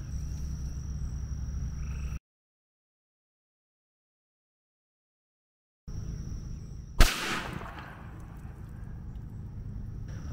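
A 7mm cartridge set off without a gun bursts once with a sharp, loud crack that blows the casing apart and chips a wooden block, followed by a brief ringing decay over low outdoor background noise.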